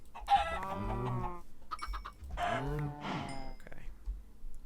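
Minecraft farm animals, cattle lowing and chickens clucking in overlapping game calls, several loud moos and clucks following one another close up.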